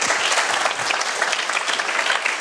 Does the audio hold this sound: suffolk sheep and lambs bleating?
no